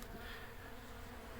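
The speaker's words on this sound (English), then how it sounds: "I've been letting the bees rob this out so they can keep good stores in the hives" Honey bees rob honey from a dead-out hive on a warm day, a soft, steady, even buzz of many insects that holds without a break.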